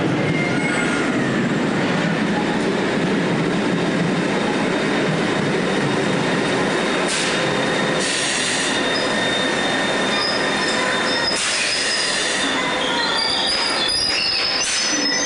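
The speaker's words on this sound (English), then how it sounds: "Here's my train, hopefully." Train rolling past on rails at night in London, with loud wheel squeal and screeching over a steady rumble, close by and sustained with no talk.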